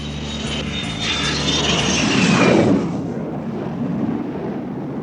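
Jet aircraft making a tailhook landing on a carrier deck, a loud roaring engine rush that swells to a heavy impact-like peak, then drops away into a lower rumble, no talking.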